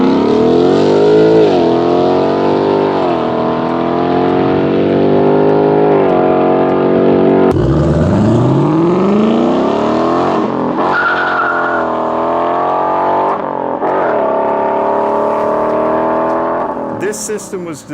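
Ford Mustang GT V8 (2018 or later) fitted with aftermarket Legend exhaust and headers, revving hard with a loud, rising and falling roar that stays near and continuous throughout, with a brief sharp drop-off and re-rev midway.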